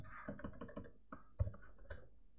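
A handful of keystrokes on a computer keyboard, quiet separate clicks in a brief uneven burst, close by with no talk.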